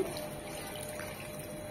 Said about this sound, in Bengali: সাথে আরো দিয়ে দিচ্ছি 1 কাপ গরম পানি।